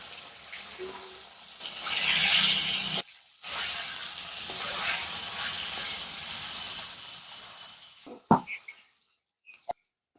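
Fish fries in a pan with a steady close sizzle that pauses briefly midway, then fades out. A few sharp clinks of utensils follow at the end.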